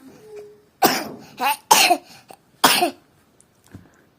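A child coughs several times in short, harsh bursts, close by, with brief pauses between them and a faint throat sound at the end.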